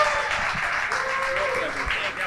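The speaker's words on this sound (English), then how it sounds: "Round of applause again for Keith Acton." An audience claps at a podcast event in a pizza restaurant for former hockey player Keith Acton, a short burst of crowd applause mixed with voices and cheering.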